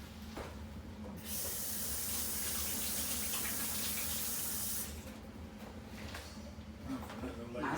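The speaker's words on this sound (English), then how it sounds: "I gotta wash my hands." A kitchen tap gushes as hands are washed, a steady bright hiss of running water lasting about three and a half seconds and then cutting off, with faint room sounds and some movement around it.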